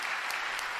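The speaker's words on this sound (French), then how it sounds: "On peut les applaudir très fort." A crowd at the Pégases 2023 awards ceremony applauds game developers in a short, dense burst of clapping.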